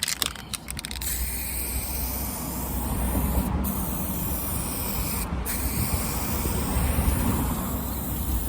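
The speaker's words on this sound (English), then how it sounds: "more lacquer." Aerosol lacquer hisses steadily in a continuous spray onto a repaired car boot of a Mercedes SLK R170 during rust repair, close and even, with a couple of brief pauses in the high hiss and no talk.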